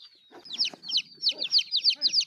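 Young chicks being picked up by hand for an F1 vaccine peep loudly and repeatedly up close, a quick string of high chirps in steady bursts with soft handling noises between.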